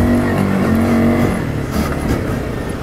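Argo ATV on Rockland wheels driven hard, its engine a loud, steady drone with a brief rising whine, close and continuous with no talking.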